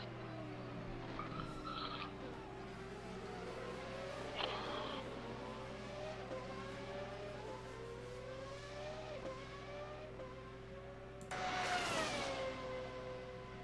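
A race car in a sim racing game at Spa-Francorchamps revs through rising and falling engine sweeps, then bursts into a louder, harsh rush of wheelspin and tire squeal near the end over a steady background hum.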